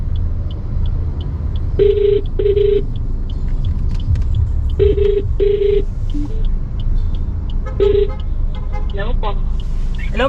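A phone ringback tone sounds in paired beeps, repeating several times while a vehicle rumbles steadily in the background. A voice speaks briefly near the end.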